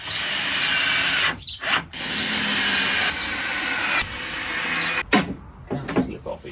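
A power drill with a countersink bit bores into face-veneered plywood, with a steady loud whirr that stops and starts in several bursts, ending in shorter broken pulses near the close.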